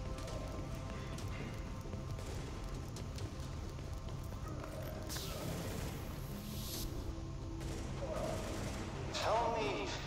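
Gunfire against enemies in a subway morgue in Tom Clancy's The Division, with scattered rapid shots and bursts of varying loudness over a busy game soundscape, and voices talking in between.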